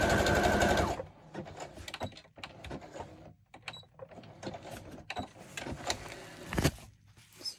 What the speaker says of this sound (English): I'm going to run some cross stitching down now.